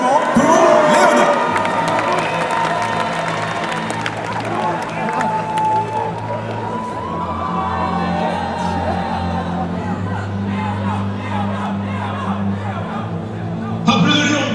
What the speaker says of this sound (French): Je vous demande de faire des applaudissements pour Léona.